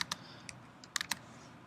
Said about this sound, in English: And then I can just type whatever I want.